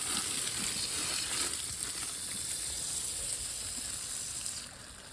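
Cold water on a ranch in winter, running in a steady broad hiss that fades near the end, close and moderately loud, with no voices.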